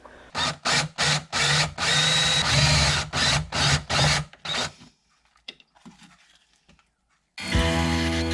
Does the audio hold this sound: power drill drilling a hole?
yes